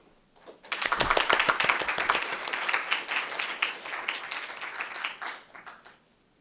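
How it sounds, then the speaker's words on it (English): Audience applause welcomes a keynote speaker at a conference hall, swelling quickly to a full, dense clatter of many hands, then tapering off gradually near the end. "why don't we welcome Professor Hung with a big applause"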